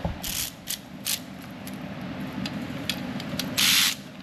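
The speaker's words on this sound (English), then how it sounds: "Let's unbolt this tube real quick and then we'll pop the heads off." Ratchet unbolting the dipstick tube on a Jeep Wrangler 3.6 with a failed cylinder head, sharp close clicking bursts at irregular intervals, the loudest and longest near the end.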